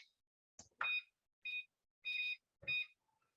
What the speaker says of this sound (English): I forgot to set a timer for my radishes, so I'm gonna do that right now